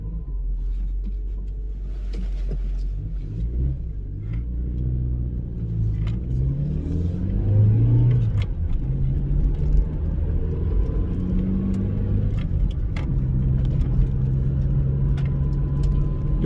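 Nissan Micra K11 with a CGA3 engine and a Speeduino coilpack setup, driven on the road. Its engine rumbles steadily and revs up and down through gear changes, heard from inside the car with no talking.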